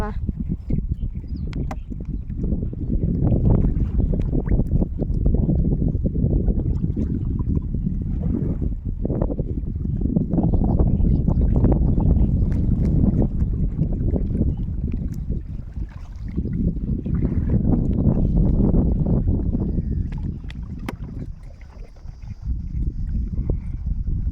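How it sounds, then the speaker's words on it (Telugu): Steady, heavy wind roars and buffets the microphone nonstop while out fishing, a thick low rumble that swells and eases without a break. "గాలి స్టార్ట్ అయింది"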